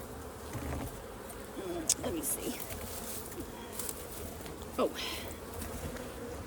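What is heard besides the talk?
honey bees buzzing in a hive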